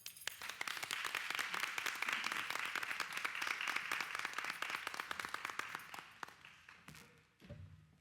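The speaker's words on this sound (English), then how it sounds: "I think we deserve a round of applause." A dense, steady round of applause from an audience at a Linden Board of Education meeting, many hands clapping together for about six seconds before thinning out and fading near the end.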